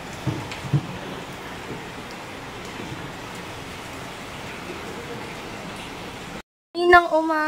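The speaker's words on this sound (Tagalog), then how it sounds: "Ngayon naman, maulan." Steady rain falling outdoors on a wet day, an even broadband patter lasting about six seconds before a brief gap and a short burst of other sound.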